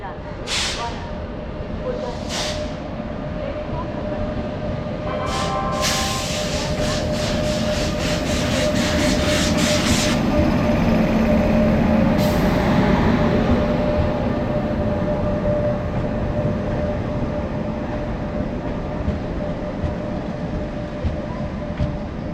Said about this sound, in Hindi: जैसा कि मैंने बोला था कि वेब 7 लोकोमोटिव होने वाला है और वेब 7 ही लोकोमोटिव आज इस ट्रेन के साथ लगा है।